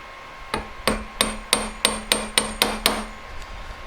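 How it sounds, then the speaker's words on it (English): Nine sharp metallic hammer strikes on the edges of a metal ring in a steady rhythm, each ringing briefly, close and loud with a quiet pause between blows. "I'm just going to hammer down the edges"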